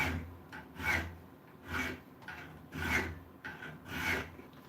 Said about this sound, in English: Now comes the sanding.